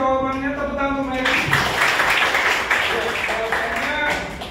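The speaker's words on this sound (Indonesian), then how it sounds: "Tepuk tangan untuk Mary." Classroom applause breaks out for a student's answer during a school lesson, a dense wash of clapping that starts about a second in and holds steady to the end, with a voice speaking just before it begins.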